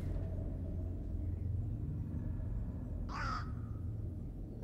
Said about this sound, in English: Is that really a crow?